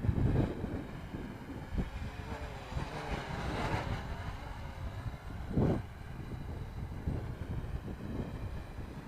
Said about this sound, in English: It's kind of tough to tell which way the wind's blowing.